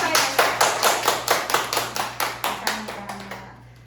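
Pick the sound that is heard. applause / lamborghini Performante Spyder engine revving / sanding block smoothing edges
applause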